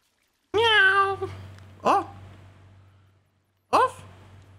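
Cat meows inside the video game Stray: one long drawn-out meow followed by two shorter meows, clear and close over a low steady game hum, with no speech.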